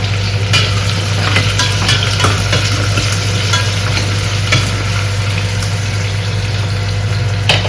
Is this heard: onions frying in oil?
yes